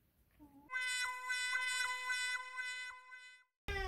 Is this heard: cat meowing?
yes